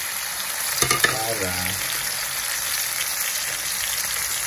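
Onion, garlic and overripe tomato sauté in a hot pan with a steady, close sizzle, briefly punctuated by a couple of stirring clatters near the start.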